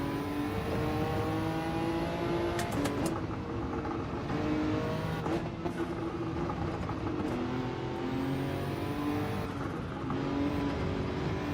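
Nissan GT-R race car in Gran Turismo 7 daily racing, its engine droning steadily with rising and falling revs through gear changes and brief sharp bursts around the three-second mark, continuous and fairly loud throughout.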